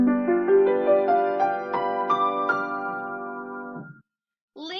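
Sustained dissonant chord of several instruments, tense and unstable, holding steady for about four seconds with notes shifting upward before cutting off; a brief new tone enters after a short gap.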